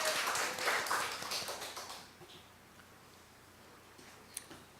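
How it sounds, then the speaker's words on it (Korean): Church congregation at a worship service claps together, a dense wash of hand claps that is loudest at first and fades away over a couple of seconds, leaving quiet room tone. "우리 하나님께 영광의 박수."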